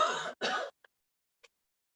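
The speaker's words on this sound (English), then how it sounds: "That cough has been chasing me around, and it may be bad." A person clears their throat or coughs twice in quick succession, fairly close and loud, followed by two faint clicks in otherwise quiet surroundings during an exercise session.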